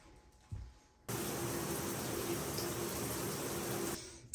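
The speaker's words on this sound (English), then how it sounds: "let's take a shower" Shower water gushes on abruptly after a click and pours in a steady loud hiss for about three seconds, then cuts off.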